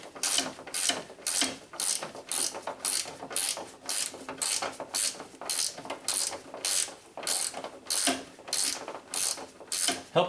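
A ratcheting wrench loosens an engine mount bolt on a 2007 Nissan Altima, giving fast, steady bursts of close, bright clicking that repeat in an even rhythm throughout, with no talking.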